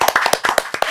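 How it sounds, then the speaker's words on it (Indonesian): Audience hands clapping in a quick, uneven burst of sharp, close claps for about a second, loud and dry, with no talking over it. "Tepuk tangan dulu buat kita semua."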